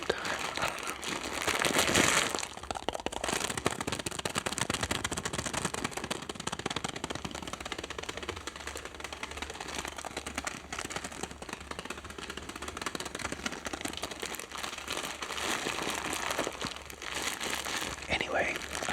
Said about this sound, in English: the sound of the beans rubbing on each other. It's like crinkly, but also like clunky at the same time